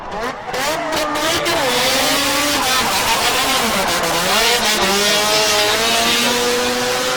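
A drift car, a FE3S, screams through a Formula Drift Japan qualifying run, its engine revving hard with rising and falling pitch sweeps and loud throttle stabs, close and continuous.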